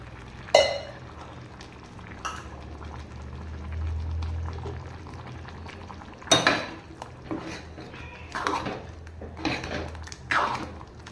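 A pot of bottle gourd and cowpea sambar with coconut bubbles and simmers steadily, with occasional clinks of a spoon against metal cookware and a low hum underneath.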